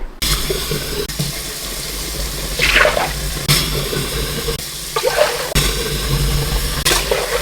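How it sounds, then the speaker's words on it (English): Water runs steadily from a kitchen sink tap into a pot, a loud continuous gush with shifting splashes as the pot fills, heard alone throughout. "we're just filling our pot with sink water"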